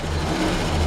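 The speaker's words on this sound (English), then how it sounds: "Great running engine" The six-cylinder engine of a 1953 Chevrolet 210 sedan runs steadily at close range, a dense continuous rumble with no speech over it.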